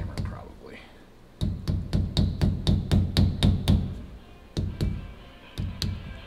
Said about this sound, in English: All right, we're gonna tap this all the way around.